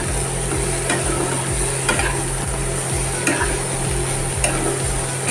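Red chili powder is stirred into a sizzling pan of oil, with a steady frying hiss under a regular, rhythmic series of spoon scrapes and taps against the pan, close and fairly loud.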